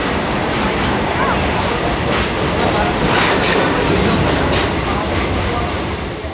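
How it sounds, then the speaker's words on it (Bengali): A Howrah to Digha local train runs toward Santragachi, a loud, steady roar of wheels on rails with faint repeated clacking throughout, close and unbroken. "তো দেখো ট্রেন তো সাঁতরাগাছি ঢুকবে"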